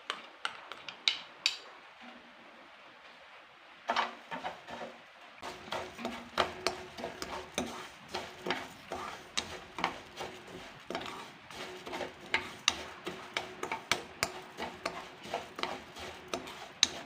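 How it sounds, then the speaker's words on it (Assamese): Vermicelli is stirred and fried in a little oil in a pan, with quiet sizzling under a steady series of sharp scraping and clinking taps from the utensil against the pan. "তেলখিনিত চমেইখিনি অকণমান ভাজি ল'ম"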